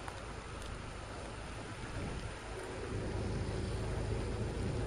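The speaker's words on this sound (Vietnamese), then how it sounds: "trời đang đổ, vừa rồi đổ cũng mưa rất là to luôn vậy" Heavy tropical rain pours down at night in Nha Trang, a dense, steady hiss of water on surfaces, unbroken and fairly distant-sounding, with no voices.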